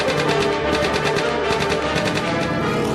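Continuous rapid machine gun fire from an early aircraft gun angled to shoot over the propeller, a loud, dense rattle of evenly spaced bursts with steady engine-like rumble beneath and no speech.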